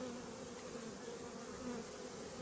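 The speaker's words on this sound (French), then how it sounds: "un essaimage, c'est joli" Honeybee swarm being hived at Noisy-sur-Ecole: a dense, steady buzzing drone of many bees fills the whole span, close and continuous with no talking.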